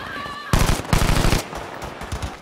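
Rapid bursts of automatic gunfire in a Battlefield 5 match, loud and close, in two dense volleys followed by scattered shots trailing off, with no talk over them.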